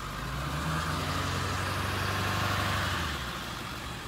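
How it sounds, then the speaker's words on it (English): A Cessna 310Q's fuel pump runs beside a parked fuel truck, heard as a steady mechanical drone and engine-like hum with a faint whine, constant and fairly close, no talking. "the fuel pump is going on this side"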